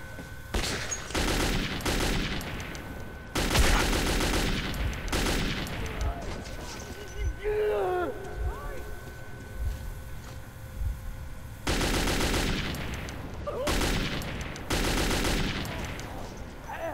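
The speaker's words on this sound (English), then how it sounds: "I'm bringing out the AK. They know where I am." Bursts of AK assault rifle fire in the video game Metro 2033, several loud volleys of rapid automatic shots separated by brief pauses, with a quieter stretch in between.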